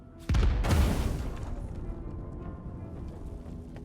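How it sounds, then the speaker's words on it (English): In the fantasy role-playing game Divinity: Original Sin 2, a dropped candle sets off a single loud, close explosion with a sharp initial blast, then a lingering roar and crackle that slowly fades. "That was a very loud explosion."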